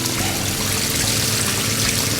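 Water pours and gushes steadily while flood-watering a grape garden to dissolve fertilizer, a loud, continuous broadband rush close by with no talk.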